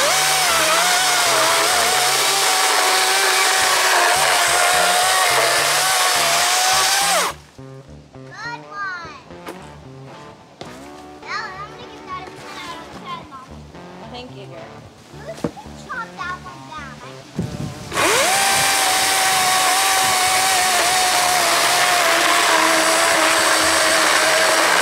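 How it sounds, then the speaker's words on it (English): Battery chainsaw cutting wood pieces, a loud steady high whine at the start and end, with a quieter gap in the middle holding speech and scattered noises. "chainsaw charged. So I'm gonna cut these pieces that I'm gonna chop in half"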